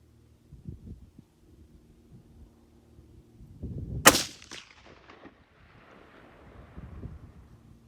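A single sharp, loud rifle shot from a Weatherby Mark V Carbonmark breaks a quiet stretch with low rumbling, and a fading echo follows.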